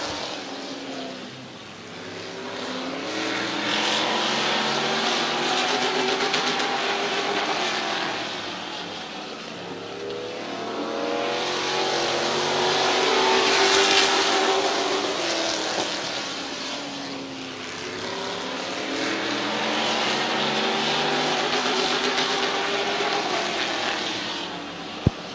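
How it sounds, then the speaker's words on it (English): Race cars lapping at Midvale Speedway make a sustained engine roar that swells and fades as the pack passes, loud and continuous throughout with no talk. "Gabe Pringle out front. He'll lead lap number 1"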